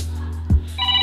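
A mobile phone rings with a short electronic ringtone, clear and close over a quiet room hum.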